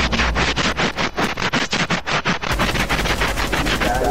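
Rapid automatic gunfire from a wallbang shot in a video game, a loud burst of evenly spaced shots for a couple of seconds followed by a brief noisy tail.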